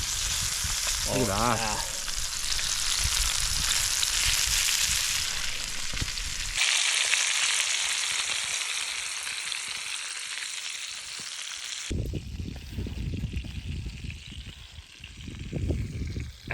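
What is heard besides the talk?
brook trout frying in a pan for shore lunch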